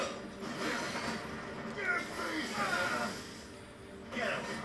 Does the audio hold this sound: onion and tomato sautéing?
no